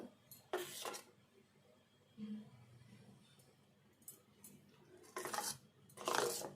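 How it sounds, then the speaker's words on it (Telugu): Bajji batter being mixed in a bowl, with soft stirring and scraping and a few louder clattering bursts of the utensil knocking against the bowl, close and quiet. "ఈ విధంగా కలుపుకుంటే సరిపోద్ది పిండి."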